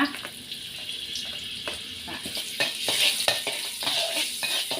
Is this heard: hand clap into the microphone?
no